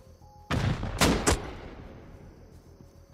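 Three sharp gunshots in the video game Rust ring out close and loud in quick succession, the last two nearly back to back, then fade into a quiet ambient hum.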